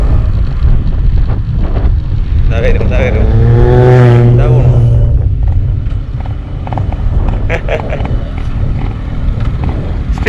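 Yamaha RX100 two-stroke motorcycle cruising in fourth gear on a ride to Kodaikanal, a steady loud engine drone mixed with heavy wind rush, with a rider's voice talking over it midway.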